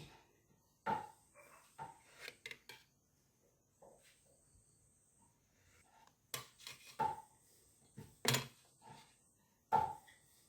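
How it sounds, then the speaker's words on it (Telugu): A knife slices a fluffy dry-fruit plum cake into pieces, giving quiet, scattered chopping taps and thuds with pauses between the cuts. "ఇప్పుడు మనం దీన్ని పీస్లా కట్ చేసుకుందాం"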